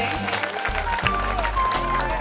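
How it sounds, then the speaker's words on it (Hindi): Audience applause at a community award ceremony honouring students, a sustained burst of clapping from a crowd that continues alongside a voice speaking over a loudspeaker. "आप सभी से मेरा अनुरोध रहेगा कि जोरदार तालियों के साथ इन बच्चियों का हौसला अफजाई करें।"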